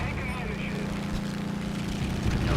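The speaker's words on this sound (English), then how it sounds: "my engine's about to die. Seconds away from stalling out, already making funky sounds" A damaged plane engine in an arcade flight combat game, rough and droning with an uneven sputter, loud and continuous beneath someone talking over it.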